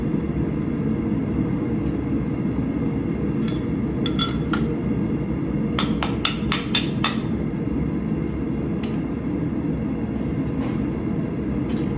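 Hammer blows on a hot round bar against an anvil during a forge weld in a loop: a few scattered clinks, then a quick run of about six sharp ringing strikes, all over a constant loud roaring hum.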